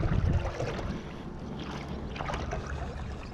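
A paddle dips into open water beside a SereneLife inflatable paddle board in small turning strokes, giving soft splashes and swirling gurgles over light wind rumble, close and fairly quiet, no talking.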